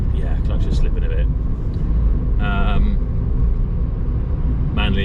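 A Toyota Yaris bought at auction, driving with a slipping clutch, gives a steady low engine and road rumble heard from inside the car, continuous and fairly loud, with someone talking over it.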